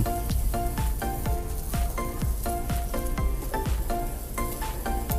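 Sliced pork sizzles loudly and continuously on a hot Thai barbecue grill pan, a bright crackling hiss with popping bursts that keeps going without any talk.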